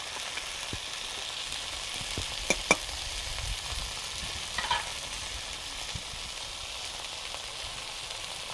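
Fish paturi wrapped in tender gourd leaves fries in a pan, giving a soft steady sizzle with a few louder crackles and stirring clicks, and nobody speaks.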